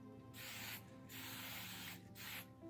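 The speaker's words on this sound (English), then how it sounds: "take the hairspray and he will spray it on his hands, between his fingers, up his arms" Three bursts of hissing hairspray sprayed onto skin, close and fairly quiet, separated by short pauses.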